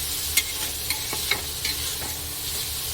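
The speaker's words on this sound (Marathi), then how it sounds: "तांदूळ पण थोडे 1 मिनिट परतून घ्यायचे आहेत।" Rice being sautéed in a pan for paneer pulao, a steady close sizzle broken by several sharp scrapes and clinks of a spoon stirring, with no voices.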